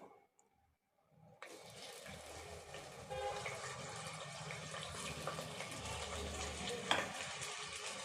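Long-sliced medium onions drop into hot oil and fry steadily in a pan, a sustained near sizzle that swells at the start and carries on evenly with brief stirring clatter, no voices.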